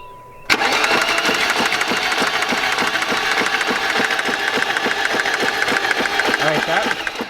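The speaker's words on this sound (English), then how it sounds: "We got the first attempt at cranking it." A BMW E30 engine cranks over with its spark plugs removed, a loud, close, steady churning with rapid even pulses that starts abruptly after a brief quiet moment and runs continuously.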